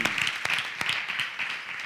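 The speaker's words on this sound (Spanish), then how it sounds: "Le damos un aplauso al Señor" A church congregation claps in praise, a short burst of dense, steady applause filling the room with a few sharper claps standing out.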